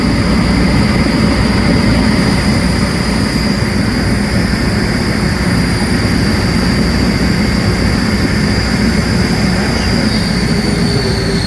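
A 3D-printed plastic compressor cooling impeller spins at 3600 rpm on a test, giving a loud, constant whooshing roar with a steady high whine, unbroken throughout.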